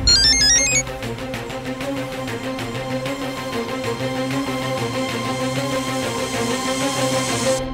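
A mobile phone ringtone plays loud and close, with a short chiming intro and then a steady, sustained melodic tone that runs on alone with no voices.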